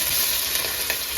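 Chopped onions sizzle steadily in hot oil in a pan while cooking chicken curry, a continuous bright frying hiss close by with faint stirring scrapes and no voices.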